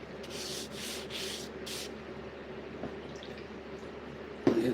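Knife blade being sharpened on a 1000 grit whetstone, several rhythmic wet scraping strokes close up, each a short gritty swish, then quieter rubbing and a brief louder knock near the end, with no voices.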